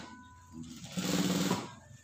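Indonesian tailor's sewing machine running a short burst, edge-stitching a pair of high-school trousers, close and steady with a rising then fading whir.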